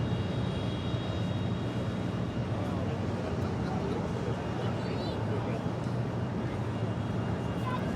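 An airliner takes off at LAX, a steady broad engine roar at moderate distance running for the whole stretch, with voices talking over it.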